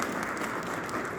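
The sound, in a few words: audience applause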